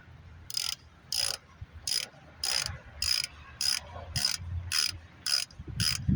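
A ratchet wrench tightens a driver door handle on a 2006 Hyundai Sonata, giving about ten evenly spaced bursts of sharp, close clicking with brief pauses between strokes.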